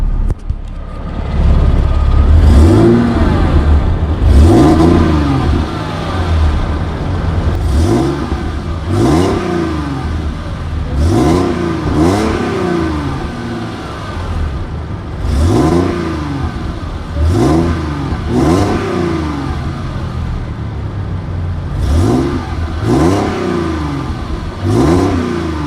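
A Mercedes W203 AMG engine fitted with headers and a mini muffler revs hard in a series of sharp blips, each climbing and falling quickly, about a dozen bursts spaced through the stretch, loud and close.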